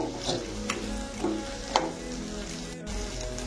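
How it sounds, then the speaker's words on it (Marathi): Crushed peanuts being stirred into okra (bhindi) frying in a pan, a steady close sizzle with several scraping stirs of a utensil against the pan. "हे टाकून घेणार आहोत। मिक्स करून घेणार आहोत।"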